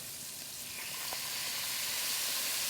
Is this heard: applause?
no